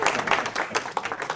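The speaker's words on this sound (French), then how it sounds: "On applaudit le père." Audience applause for a father at a talk, a short burst of dense clapping that holds steady without letting up.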